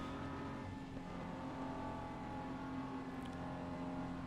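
A BMW M4 GT3 race car engine in Assetto Corsa Competizione holds a steady, fairly quiet drone while accelerating, a continuous whirring engine tone without talk.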